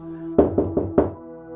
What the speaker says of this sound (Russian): Громкий стук в дверь вырывает меня из раздумий.